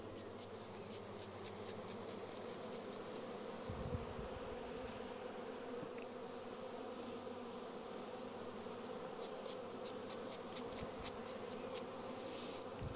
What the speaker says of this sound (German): Die Bienen müssen natürlich ab.